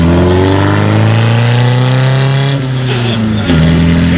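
A supercar launches and accelerates hard at the Heveningham Concours of Elegance 2024, its engine roaring loud and close with rising revs, a brief gearshift dip, then pulling again; no voices.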